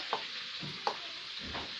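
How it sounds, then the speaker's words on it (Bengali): Pointed gourd (potol) frying in a pan on a clay stove, a faint continuous sizzle with a few soft stirring taps. "ওই পাশের উনানেও পটল ভাজা হচ্ছে"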